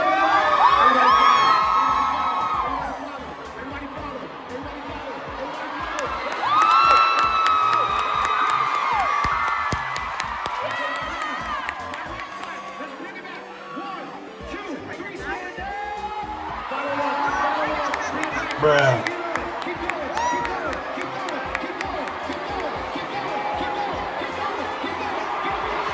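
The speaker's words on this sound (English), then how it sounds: "I experienced my first crowd wave, which was really cool." A concert crowd at a show cheers and yells as a wave sweeps through the audience, the roar swelling, fading and rising again over about half a minute, with shouts and whoops standing out near and far.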